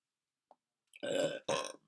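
A short, close burp forms two voiced bursts after a tiny click, alone in otherwise quiet surroundings.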